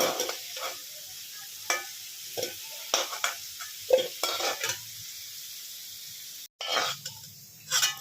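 Potato pieces fry in hot oil over a gas flame, a quiet steady sizzle broken by a scatter of sharp scraping and clacking strokes as a spatula stirs them in the pan.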